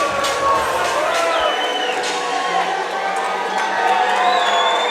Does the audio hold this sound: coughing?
no